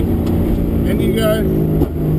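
A V8 race car on the Pukekohe circuit in Auckland, heard from inside during a hot lap, holds a steady loud engine drone through braking and a downshift to third, with a brief rev blip near the end as an instructor talks over it.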